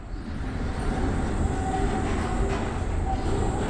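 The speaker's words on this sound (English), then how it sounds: "it's like a monorail at the park. I think it's just taking us through the facility." A monorail tram in the video game Abiotic Factor carries riders through a research facility, giving a steady, loud rolling rumble with faint rail-car clatter that holds evenly throughout.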